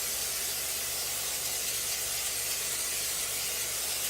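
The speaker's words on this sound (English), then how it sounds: "Again, applying grease to the pan." Cooking grease sprayed onto a pan in one continuous close hiss that stays even throughout, with no speech.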